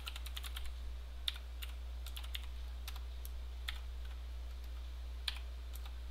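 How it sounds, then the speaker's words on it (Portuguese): Keys on a computer keyboard tap in quick uneven bursts with short pauses, fairly close but quiet, over a low steady hum with no talking. "Desculpem a demora para escrever, é porque o teclado que eu estou usando ele é um teclado, não é padrão brasileiro"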